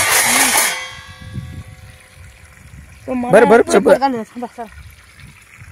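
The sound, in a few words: water filling a vessel from a tap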